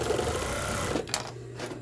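A sewing machine stitches the waistband binding on a pair of chaps, running a fast, steady mechanical whir up close, then slowing into a few separate clicks and stops near the end.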